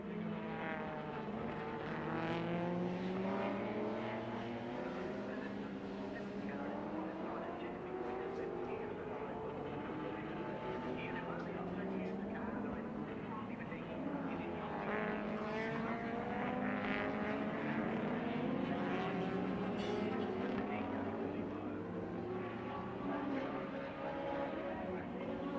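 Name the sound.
touring car engine passing, 1987 Calder 500 WTCC race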